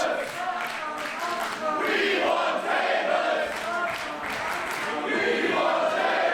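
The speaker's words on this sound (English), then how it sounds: "You can hear this crowd saying, I think they're saying they want tables" A dense wrestling crowd at a GWF show fills the arena with loud, sustained chanting, rhythmic swells of many voices carrying steadily throughout.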